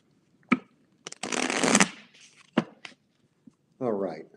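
Tarot cards riffle and slide in a quick shuffle up close, with soft taps and clicks around it and a brief voice at the end.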